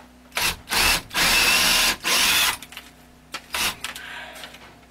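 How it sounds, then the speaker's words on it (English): A power drill bores into a wall board in a tiny house, running in several short bursts of varying length, loud and close, with quieter handling noises between the runs. "Yeah, I'm not hitting that stud in there, so I need to drill deeper."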